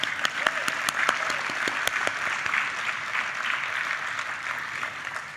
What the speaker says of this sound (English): can we please get a big round of applause for them?